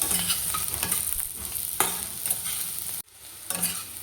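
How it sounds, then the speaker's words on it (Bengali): Chopped onion and capsicum fry together in a pan, giving a steady close sizzle with stirring scrapes. The sound briefly cuts out near the end, then resumes. "এই ক্যাপসিকাম আর পেঁয়াজটা আগে ভেজে রাখেনি তার জন্য একসঙ্গে দিয়ে দেবো তো পেঁয়াজের সঙ্গে এটাও ভাজা হয়ে যাবে"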